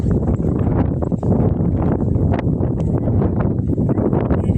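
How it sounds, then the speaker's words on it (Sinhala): Strong wind blasts through the Riverston wind gap, a loud, continuous roar and buffeting across the microphone with no voices. "මෙතනට මාර විදියට හුළං ගහනවා"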